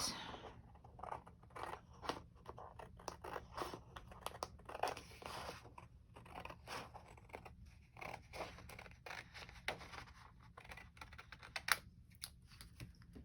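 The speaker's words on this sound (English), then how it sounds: "let's see if I can cut down a straight line if I've got a piece of scrapbook paper right next to it" Scissors snip through scrapbook paper in a steady run of short, crisp cuts, close and fairly quiet, with a soft scrape between strokes and no voices.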